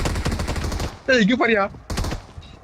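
Rapid burst of automatic rifle fire from an M7 in the BGMI mobile battle game, loud and close for about a second, followed by excited voices talking.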